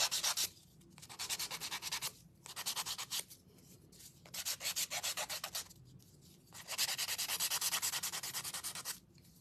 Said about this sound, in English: Do any of you guys use these nail files to do some sanding with?